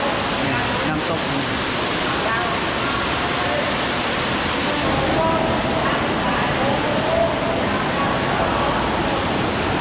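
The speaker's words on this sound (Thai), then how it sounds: "น้ำตก" Waterfall inside a cave, a dense, steady rushing roar that fills the space continuously and loudly, with a voice talking faintly beneath it.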